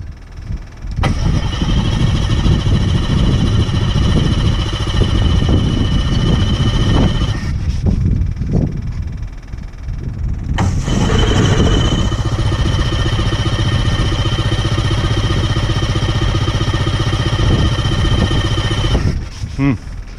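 The propeller engine of a self-launching glider cranks, catches and runs loud and close, sputters and drops out partway through, then restarts and runs steadily again.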